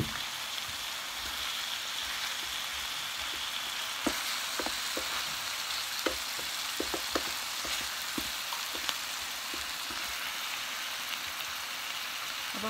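Chicken sizzles and fries in a pan for coconut-milk pork adobo, a continuous crackling hiss with scattered sharp pops and spatters throughout, close and steady.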